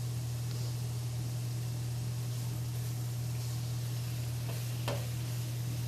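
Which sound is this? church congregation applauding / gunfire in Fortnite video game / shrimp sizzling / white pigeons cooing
shrimp sizzling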